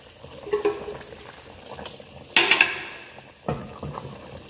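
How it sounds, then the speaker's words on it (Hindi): Water cooking in a pot on a home stove, giving soft bubbling and sizzling with a few louder splashy bursts, close and moderately loud, without voices. "माशाल्लाह पानी पक गया"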